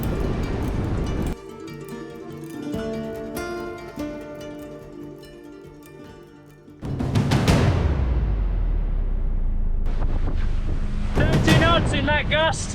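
A strong wind gust sweeps over a sailboat at sea, a loud rushing roar that rises suddenly midway and stays heavy, with people talking on board.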